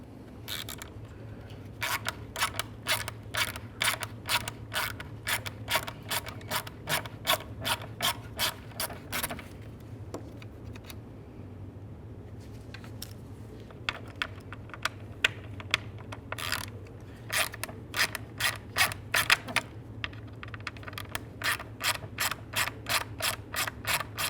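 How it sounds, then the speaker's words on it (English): A ratchet with a T25 bit turns out intake manifold bolts on a 2012-2018 Nissan Altima 2.5L four-cylinder, giving crisp, rapid clicking bursts in repeated runs with short pauses, close and clear. "Use a T25 to remove both of these bolts."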